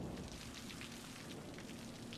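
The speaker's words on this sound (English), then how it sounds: "it's pouring down rain" Steady, dense downpour of rain in the Cities: Skylines city-building game, a continuous hiss of drops alone with no voices, even and unbroken throughout.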